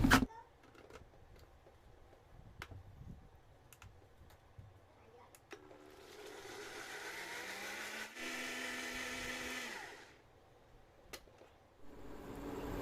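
A blender whirs for a few seconds in a quiet kitchen, blending tomato soup into a paste, preceded by scattered clicks and taps, then stops; the whole scene is faint.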